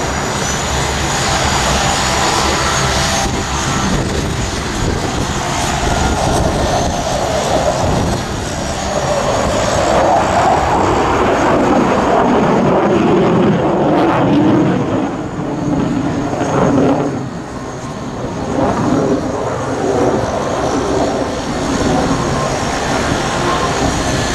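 A combat jet performing an air show manoeuvre at RAF Cosford gives a loud, continuous engine roar that swells and shifts in pitch as it passes overhead, with no speech.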